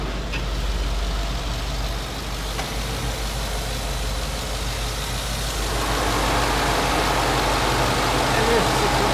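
Steady low engine hum from a 2014 Ford F-150 XLT with a 6.2 liter engine, running smoothly and close by, growing slightly louder near the end with someone talking over it.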